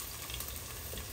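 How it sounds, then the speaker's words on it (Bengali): Potatoes fry in a pan, giving a steady, faint sizzle with no talk over it. "এর জন্য আমি একটু ভাজা ভাজা করছি।"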